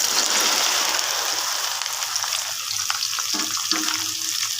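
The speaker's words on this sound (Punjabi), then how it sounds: "ਮੈਂ ਪਹਿਲਾਂ ਇੱਥੇ ਪਿੰਡੀਆਂ ਫਰਾਈ ਕਰਨ ਲੱਗੀ ਹਾਂ" Okra (bhindi) fries in hot oil in a pan, giving a steady, close hiss and crackle that holds the whole time, with a few soft clinks near the end and no talking.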